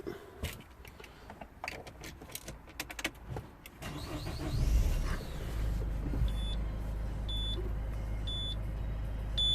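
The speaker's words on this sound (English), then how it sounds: "I'm gonna start the engine." A 2008 Citroen C4 Picasso with engine, ABS, ESP, EPB and gearbox faults has its engine cranked and started after a few clicks, then idles steadily while repeated warning beeps sound.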